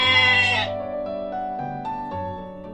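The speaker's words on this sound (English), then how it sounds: "This is a sheep, and its sound" A sheep gives one clear, wavering bleat, loud and close, with a tremulous tone that trails off over a couple of seconds.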